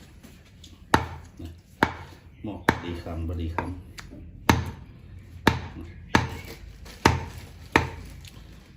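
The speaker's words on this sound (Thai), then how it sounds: "มาหั่นไก่กันก่อน" Sharp knife chops strike a board as chicken is cut, an irregular series of about ten hits, close and loud, with someone talking quietly between them.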